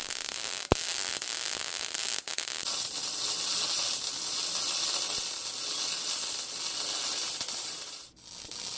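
MIG welding a steel stand with a small Lincoln Electric 135 wire welder, a steady crackling, hissing arc that runs almost continuously for several seconds with a sharp pop near the start and a brief dip near the end.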